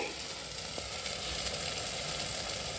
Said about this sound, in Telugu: అలా కొంచెం ఫ్రై అయితే చాలండి